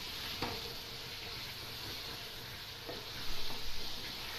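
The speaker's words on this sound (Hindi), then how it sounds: "अब इसको भून लेंगे अच्छी तरह।" Cumin seeds frying in hot oil for chicken biryani, a steady hissing sizzle throughout with a couple of faint utensil taps and a brief louder crackle near the end.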